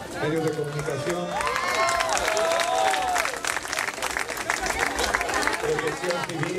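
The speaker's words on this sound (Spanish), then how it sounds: "un aplauso a los más media, medios de comunicación" A large open-air crowd at a Via Crucis event in a park claps for the media, steady applause with cheering and a voice talking over it.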